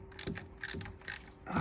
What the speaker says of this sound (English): Tighten that one 10mm bolt back up as much as possible before it actually properly bites.